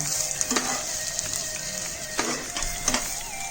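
Poha and bowal fish head sizzle together in a hot pan, a constant close crackle punctuated by a few sharp stirring knocks and scrapes.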